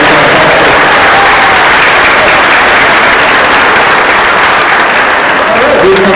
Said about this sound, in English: how about one last wondrous applause for these kids?